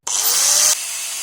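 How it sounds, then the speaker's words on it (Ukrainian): An angle grinder cutting a battery casing gives a loud, high-pitched whine, grinding steadily for under a second, then cuts off, leaving a fainter hiss ringing on after it. "я дуже обережно зняв верхню кришку болгаркою"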